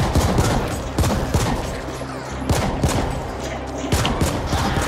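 Rapid gunfire from the sci-fi shooter game The Ascent, with dense bursts of shots fired in quick volleys over a constant loud backdrop of in-game action.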